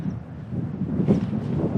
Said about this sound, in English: I didn't expect it to be so windy